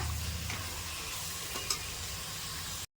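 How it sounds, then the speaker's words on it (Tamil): Potato, beans, carrot and kohlrabi sautéing in hot oil for vegetable rice, a steady close sizzle with a stir partway through, then a sudden cutoff near the end. "எல்லாத்தையும் போட்டு வதக்கலாம்"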